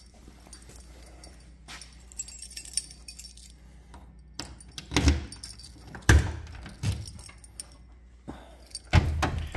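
Metal keys jangle and clink in bursts while the trunk of a 1962 Oldsmobile Cutlass is opened, with a few louder clatters and thumps near the end, no talk.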